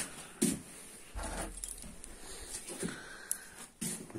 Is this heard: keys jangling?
yes